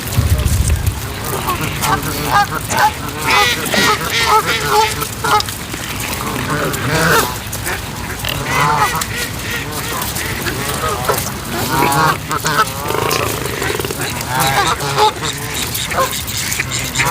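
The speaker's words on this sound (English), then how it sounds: "There's a lot of swans today." Swans by a road near a roundabout, giving repeated nasal honking calls close by, mixed with people talking and steady outdoor background noise.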